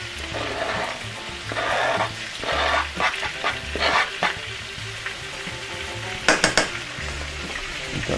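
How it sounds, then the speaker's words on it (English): Onions hitting a hot pan with meatballs, a close steady sizzle and fry broken by stirring scrapes and a few clinks of utensils on the pan. "And I'm going to get my onions. And I'm going to throw them in there."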